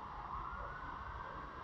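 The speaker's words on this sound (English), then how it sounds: "I just hear cop sirens now." A police car siren wails faintly in the distance, a thin sustained tone over a low background rumble.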